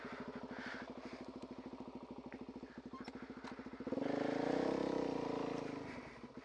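A motorcycle engine idles close by with an even, rapid thumping, then swells into a louder, rougher rev for a few seconds before easing back.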